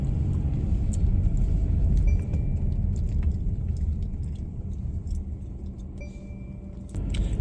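A parked car's engine idles with a steady, close, low rumble, with a few faint clicks and a brief dip in level.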